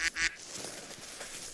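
Two short nasal duck-call quacks in the hunting video game Hunter: Call of the Wild sound close together at the start, then only a faint background hum remains.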